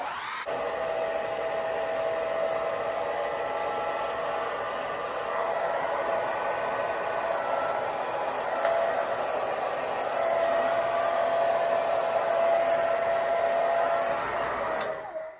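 Hair dryer blowing on curly hair roots, a loud steady close-up whoosh of airflow with a constant motor whine, running unbroken for about fifteen seconds with no talking.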